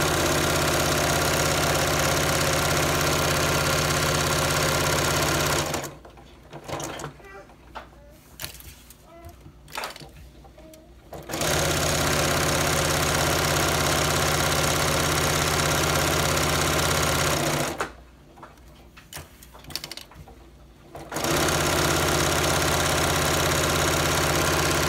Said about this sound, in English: I'm letting the machine pull the fabric through